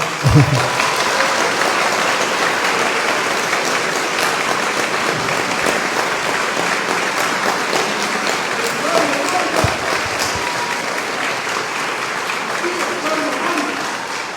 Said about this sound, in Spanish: Este aplauso me llega totalmente al corazón